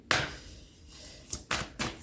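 Oracle cards slipping from hands and falling, a sharp slap followed by three more quick flutters and thuds near the microphone in a quiet room.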